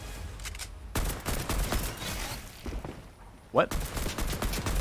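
AK rifle fire in Fortnite, rapid bursts of automatic shots crackling in clusters under a player's brief voice, with one sharper louder burst near the end.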